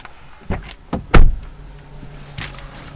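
Doors of a 2019 Hyundai Sonata opening and shutting, a few sharp thumps and clicks close by, the loudest slam near the middle, with quiet cabin ambience between.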